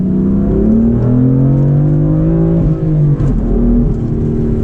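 A manual BMW M4 Convertible accelerates hard, its loud, steady engine note climbing in pitch through the rev range, with a brief dip partway through as if between gears.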